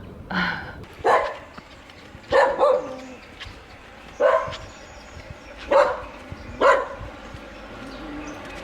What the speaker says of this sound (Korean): 아침에 진짜 개들이 많이 짖네요